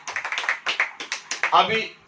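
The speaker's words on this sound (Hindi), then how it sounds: "अब फिर से ताली बजाएंगे" Quick, crisp hand claps from a church congregation during a Hindi sermon patter at an irregular pace, with a voice briefly rising among them near the end.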